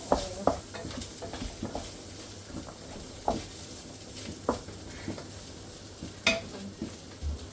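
Softened ingredients are stirred in a cooking pan over a faint sizzle. Irregular scrapes and light clatters of a utensil against the pan come every second or so, up close.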